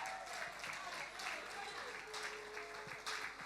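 A church congregation claps at a worship service, fairly faint and sustained for several seconds, with voices mixed in underneath.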